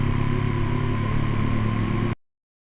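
A motorbike engine runs in a steady, close drone with a constant hum and clatter throughout, then cuts off abruptly into silence.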